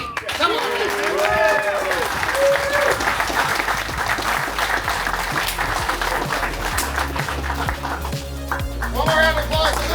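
Crowd applause and clapping for the top finisher in a 2023 BMW M2 at an SCCA time attack event, steady and fairly loud across the clip, with an announcer's voice talking over it.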